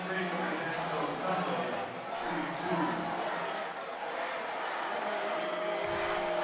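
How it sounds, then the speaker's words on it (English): Travelling Michigan women's basketball fans cheer loudly in the arena at East Lansing during a Michigan vs Michigan State game, a steady wash of crowd noise beneath an announcer's commentary. "The Maize and the Blue faithful who made the trip over to East Lansing here getting loud."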